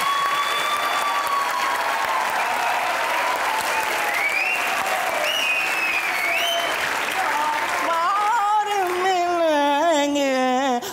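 Sustained studio audience applause greeting a guest on a comedy talk show, a dense, loud wash of clapping that carries on steadily, with a voice speaking over it and tonal music rising near the end.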